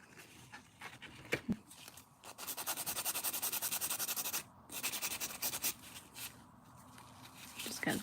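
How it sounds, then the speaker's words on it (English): Close rasping strokes from a nail file filing away glitter overhang on a stiletto nail, in quick rhythmic bursts with a short pause between runs. "Just because we had some glitter overhang, so I am filing that away"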